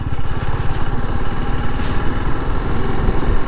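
A 2025 TVS Apache RR 310 motorcycle on a ride, its engine giving a loud, close, steady throbbing pulse that holds evenly with no talk.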